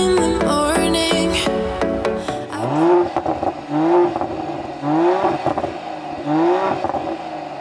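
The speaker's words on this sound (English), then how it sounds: "The engine revs so nicely and it sounds glorious" Mercedes-AMG GLE 53 SUV revving while accelerating, several rising engine sweeps after a short burst of music, each pull climbing and then easing off.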